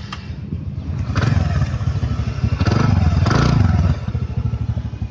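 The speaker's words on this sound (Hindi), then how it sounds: "इसका एग्जॉस्ट इसका साउंड बहुत प्यारा है" A TVS Ntorq 125cc scooter engine runs steadily with a throaty, pulsing exhaust note, revving up a couple of times before settling back to idle, close by.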